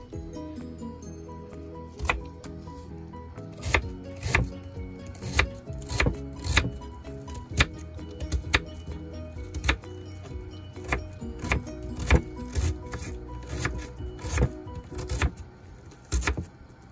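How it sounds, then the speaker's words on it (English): Repeated sharp knife chops through a white onion on a cutting board, irregular in rhythm, against a low background hum with some clinking. "we'll be grabbing the white onion, and we'll be chopping that up"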